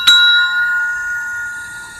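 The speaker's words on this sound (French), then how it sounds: "Ding dong." A doorbell rings at a house at Christmastime: a single bright chime struck once, loud and clear, its tone ringing on and slowly fading over about two seconds.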